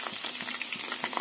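Garlic, datura and cloves fry in hot oil, giving a steady close sizzle with small crackling pops scattered through it; no one speaks.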